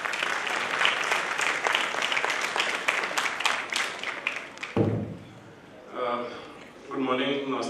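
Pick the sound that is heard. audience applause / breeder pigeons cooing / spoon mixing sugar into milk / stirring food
audience applause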